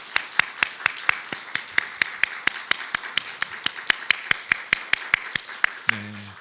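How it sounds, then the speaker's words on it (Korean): A church congregation claps in unison at a Sunday Easter service, sharp, evenly spaced beats repeating at a steady rhythm, ending with a brief low tone. "우리 다 같이 한번 일어나서 우리 하나님께 감사와 영광의 박수를 같이 올렸으면"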